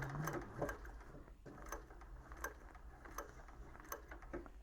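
Sewing machine stitching a convertible bag with a drop-in lining, a quiet rapid mechanical whir with regular ticking clicks spread through the run, faint and close.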